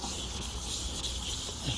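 Wet sanding of a Toyota Sienna headlight lens with 600-grit sandpaper and water, a continuous close scratchy rubbing hiss with brief strokes and no talk.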